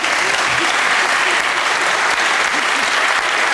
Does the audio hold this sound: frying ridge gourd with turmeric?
no